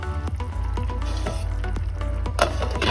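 Two green chillies are added to cabbage and pumpkin khar cooking in a pan over a high flame, with a steady, close sizzle of frying throughout and a few light clicks and pops on top.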